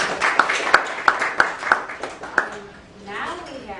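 Audience clapping after speakers at a talk on Kerala Catholicism: a few loud, evenly spaced claps over a thin spread of applause, fading out near the end as a voice begins speaking.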